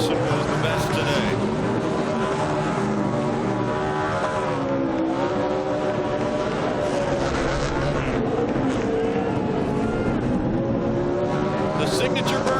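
Kyle Larson's NASCAR race car roars through a victory burnout at Dover, a loud sustained engine revving with tire squeal beneath continuous excited commentary and crowd noise.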